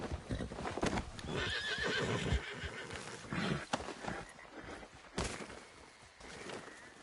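A horse in Red Dead Redemption 2 gives a loud, close whinny that rises and falls, with clopping hooves and a scuffle of other game sounds around it.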